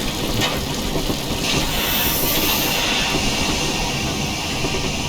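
Steady steam hiss from the injector of an LNER J21 0-6-0 steam locomotive in Train Simulator Classic, a continuous broadband rush with low rumble underneath, loud and unbroken throughout.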